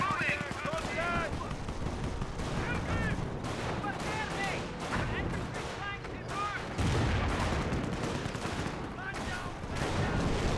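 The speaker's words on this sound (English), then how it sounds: "Good mortar hit there." Mortar shells and gunfire from a Company of Heroes World War II battle: repeated sharp explosive impacts and crackling shots layered with game chatter and someone talking over the top throughout.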